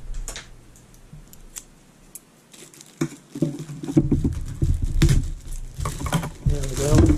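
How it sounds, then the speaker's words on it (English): Scissors snip and slice through packing tape to open a shipping box holding a Sunavo electric single-burner hotplate, with crinkly handling and cardboard rustle in the second half, close and moderately loud. "cut it open. Let me get some scissors."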